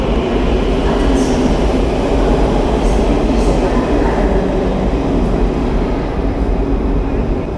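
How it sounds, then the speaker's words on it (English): A Quito Metro subway train runs past in a new, clean station at Carolina Park, giving a loud, steady rumble and rush that stays constant from start to finish with no voices over it. "You can see the metro over here going, guys."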